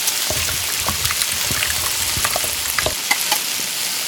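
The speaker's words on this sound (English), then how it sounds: "Continue to stir in the pan." Clams with seasonings and soy sauce sizzle steadily in a hot pan, with scattered light clicks and scrapes from stirring, loud and close throughout.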